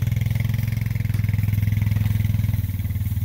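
An ATV engine pulls a hay bale unroller while feeding cattle, running close and loud with a steady, rapidly pulsing throb and no speech over it.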